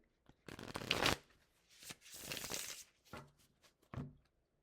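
Tarot cards being shuffled in several quick riffling bursts, close and crisp, with short pauses between them and no talking.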